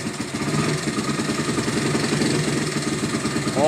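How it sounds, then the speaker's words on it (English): A Honda XR100R dirt bike engine idles steadily after a cold start, a close, continuous low putter with an even pulsing rhythm throughout. "Another cold start of this XR100R"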